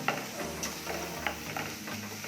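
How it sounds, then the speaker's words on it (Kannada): Curry leaves crackle and sizzle in hot oil while frying for a paneer pepper fry, a steady soft hiss with a few sharper pops and stirring clicks, close and fairly quiet, no talking. "ಇದಕ್ಕೆ ನಾನಿವಾಗ ಕರಿಬೇವು ಸೊಪ್ಪನ್ನು ಹಾಕ್ಕೊಳ್ತಾ ಇದ್ದೀನಿ"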